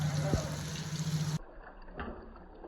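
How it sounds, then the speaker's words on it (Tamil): Tamarind extract pours into a simmering fish gravy with a close, steady liquid splash for just over a second, then it cuts off, leaving faint bubbling and light kitchen clatter. "புளி கரைச்சலை சேர்த்துக்கோங்க."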